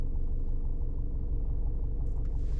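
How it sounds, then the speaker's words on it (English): A 2016 VW Jetta GLI MK6 with a 2-litre four-cylinder turbo petrol engine idles with a deep, rough, diesel-like rumble, steady and close, with a faint hiss near the end. "It has 2-liter 4-cylinder turbocharged petrol engine,"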